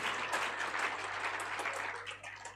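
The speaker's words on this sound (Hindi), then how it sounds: "हां, ताली बजा लीजिए।" At a Hindu religious discourse, the audience breaks into sustained applause, many hands clapping loudly and densely, tapering slightly toward the end over a low steady hum.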